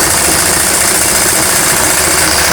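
An electric sewing machine stitches a cotton petticoat seam, running in a loud, steady mechanical whir with a rapid needle clatter that continues without pause and without talk.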